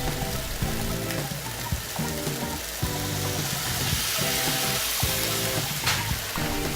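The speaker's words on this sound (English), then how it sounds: "add in sriracha and light soy sauce, and then mix the pork so that it's evenly covered all over" Pork sizzles in a pan as sriracha and light soy sauce are mixed through it. A steady, close hiss runs throughout, broken by regular scraping stirs.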